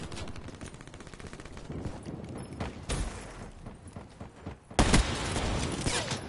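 Rapid SVG gunfire in a video game rattles in fast bursts, with a louder, sharper volley near the end standing out against the busy background.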